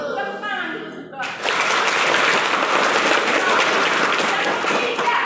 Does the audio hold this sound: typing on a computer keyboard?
no